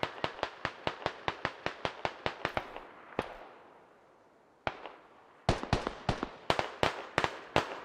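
Rapid gunfire in the SquadOps game, a long run of sharp evenly spaced shots, then a pause with one or two lone cracks, then another burst of fast shots, loud and close with no talk.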